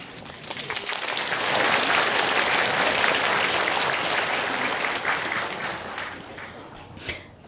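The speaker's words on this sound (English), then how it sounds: "Thank you for being so polite and generous with your clapping." An audience clapping at a talk, applause swelling over the first seconds, holding steady and dense, then tapering off with a final louder clap near the end.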